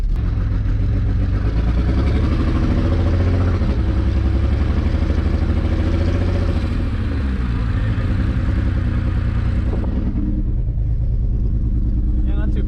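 A single-turbo BMW 335i engine misfiring on a test drive, its loud rumbling drone stuttering and breaking up under load from inside the car, with people talking over the engine noise throughout.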